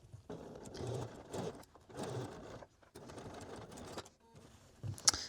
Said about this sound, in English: we are going to sew right next to that folded edge, just a needle width away